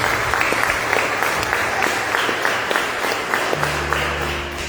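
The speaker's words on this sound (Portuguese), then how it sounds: "Podemos aplaudir o Senhor?" A church congregation claps together during a worship service, with steady rhythmic applause carried under a continuous musical drone, moderately loud and fairly close throughout.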